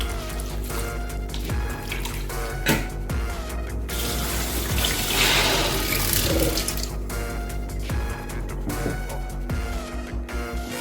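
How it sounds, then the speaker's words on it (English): Rice being washed under running water in a sieve in a home kitchen: a continuous tap stream splashes and rattles through the mesh, with intermittent clinks and sloshes as the grains are stirred, rising to a fuller gush midway. "We'll wash and retain it in the sieve to drain out all the water."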